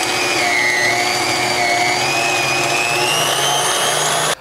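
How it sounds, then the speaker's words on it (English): Electric meat grinder running continuously as it grinds pork for sausage, a loud, steady whine with slight pitch wobbles under load that cuts off abruptly at the end. "Let's go ahead and start grinding some meat."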